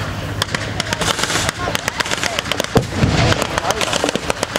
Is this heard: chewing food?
no